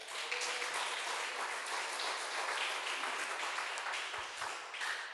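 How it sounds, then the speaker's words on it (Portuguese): A church congregation applauds in a continuous wash of clapping that holds steady for several seconds. "Você pode dar um aplauso ao Senhor Jesus?"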